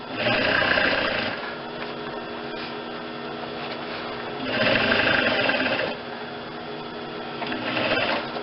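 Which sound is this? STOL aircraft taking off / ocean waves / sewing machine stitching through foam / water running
sewing machine stitching through foam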